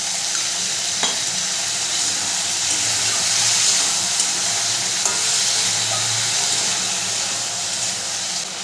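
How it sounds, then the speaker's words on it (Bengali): Water poured from a rinsed spice bowl into a frying shukto pan with turmeric gives a steady bright sizzle and hiss, with occasional soft stirring knocks, close and continuous. "মশলার বাটিটা ধুয়ে আমি অল্প একটু জল দেবো।"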